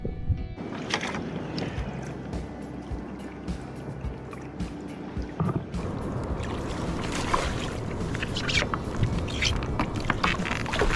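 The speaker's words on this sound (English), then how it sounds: "It was time for a long paddle to get to a bit of epic looking coastline" Sea kayak paddled along a rugged coastline, steady water wash and lapping against the hull with soft rhythmic paddle strokes and light wind buffeting the microphone, no talk.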